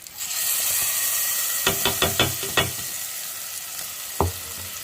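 Tomato and onion paste hits a hot pan with a loud, bright sizzle that holds steady, broken by a quick run of sharp ladle clacks against the pan and one more knock near the end. No one speaks.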